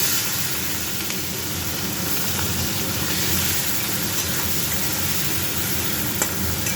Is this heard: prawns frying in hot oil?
yes